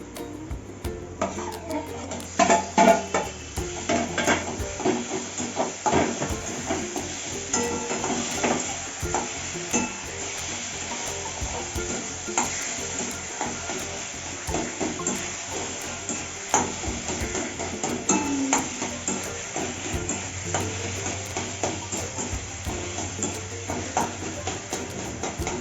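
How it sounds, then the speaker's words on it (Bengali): Boiled pumpkin is stirred into onions that have been fried with a little salt in a pan for a mashed pumpkin dish. Close, continuous sizzling with steady scraping stirs runs throughout, with no talking. "পেঁয়াজটা ভাজা হয়ে গেছে, কুমড়োটা দিয়ে দেবো এর মধ্যে"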